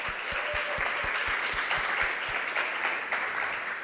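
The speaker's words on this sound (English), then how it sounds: "Let's give Janice a big round of applause, everyone" A steady round of applause from an audience at a talk event, with some close, distinct claps standing out from the crowd throughout.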